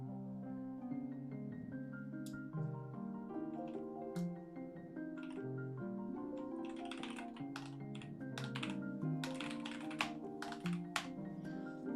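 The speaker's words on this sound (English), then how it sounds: "I've never been typing this fast before." Rapid typing on a computer keyboard produces quiet, dense clicks and taps over steady tonal background music that plays throughout.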